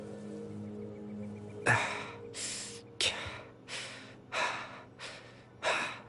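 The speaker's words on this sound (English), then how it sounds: "Why are you panting? Did you run here?" A Genshin Impact game character pants heavily, with six or seven loud, breathy gasps in an uneven rhythm after a brief lead-in of background game ambience.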